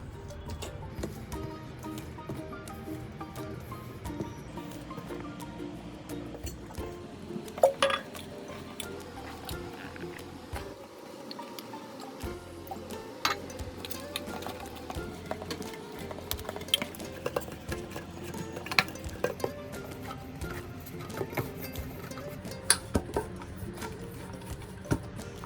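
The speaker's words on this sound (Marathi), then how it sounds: "मी पीठ मळून घेते" Dough for aloo paratha is kneaded by hand in a metal bowl, giving a continuous run of soft squishing and slapping with scattered light clinks of the vessel, close up and steady, with no talk.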